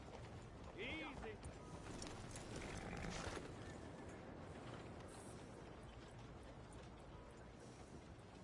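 Horse hooves clip-clop at a steady pace in the video game Red Dead Redemption 2, mixed with a possible whinny and a rumbling outdoor game ambience, while a voice speaks over it.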